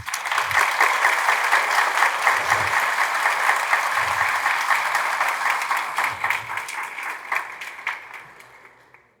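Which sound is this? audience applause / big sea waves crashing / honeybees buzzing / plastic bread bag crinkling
audience applause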